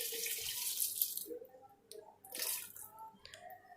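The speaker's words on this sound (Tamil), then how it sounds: "இப்போ இதில் வந்து நான் சுடு தண்ணி ஆட் பண்ணிக்கிறேன்." Hot water is poured into a pot of chicken biryani in two bursts, a close splashing gush that stops and then starts again, with no talk.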